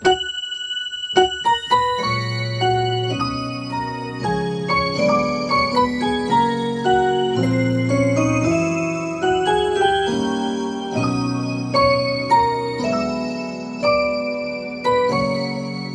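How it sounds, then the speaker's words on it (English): A bell-like synth patch called Jpop on a Yamaha Montage 8 keyboard plays a melody of chiming notes and chords, each struck note ringing out and decaying, with no voices. "Jpop gives you that bell effect, that bell sound"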